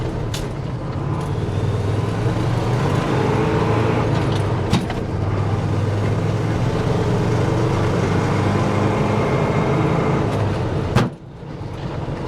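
A medium duty dump truck pulls away in second gear with a loud, steady diesel rumble, broken by a couple of sharp knocks and clunks and a brief dip in engine noise near the end.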